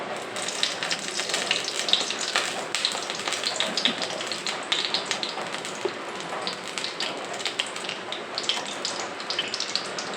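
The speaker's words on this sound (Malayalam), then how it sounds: "ചൂടായിട്ട് നമുക്കിതിലേക്ക് വെളിച്ചെണ്ണ ഒഴിക്കാം" Coconut oil crackles and spits steadily in a hot pan, a dense close-up sizzle with scattered sharp pops running unbroken throughout, no voices.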